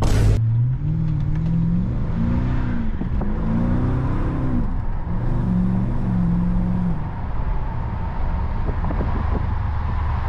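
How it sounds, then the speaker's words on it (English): A deep, burbling V8 engine of a BMW 750i idles and rumbles at low revs while city driving, pitch rising and falling gently, loud and close throughout. "you have more time to hear the voice of the V8"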